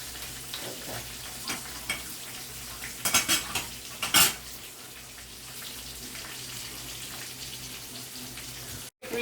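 Beans and rice stirred in a pot with a utensil, soft scrapes and a couple of sharper clatters against the metal over a low steady cooking hiss, fairly quiet and close, with no talking.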